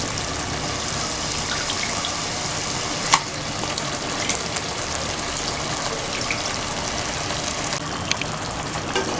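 A little water poured into a pan of chicken curry makes a continuous hiss and sizzle from close by, broken by a few faint clinks of a utensil, with no talking.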